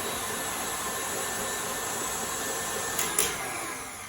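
Food mixer whizzing cake batter made with butter, a continuous dense motor whir and churning roar, with a brief louder surge near the end of the short burst.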